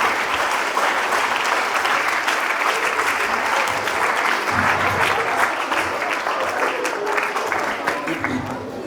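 A school audience claps at an award ceremony, giving continuous, fairly loud applause that holds steady from start to finish with faint crowd murmur beneath.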